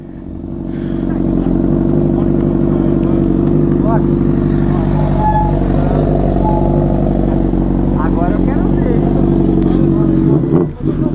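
A Honda CBR1000 motorcycle engine drones loud and steady at close range as it crosses a river on a trail, while people talk and shout over it.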